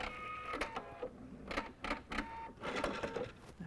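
A sewing machine chain piecing four-patch quilt blocks, its needle running in quick bursts with short pauses between seams, close and steady with light clicks and fabric handling and no talk.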